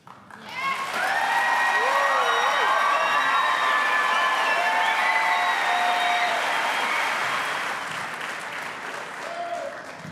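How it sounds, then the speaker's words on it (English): Loud applause with whoops and cheers from a school audience at a middle school fine arts festival, building fast and holding steady, with high shouted calls over the clapping before it tapers slightly near the end. "I think that deserves another round of applause"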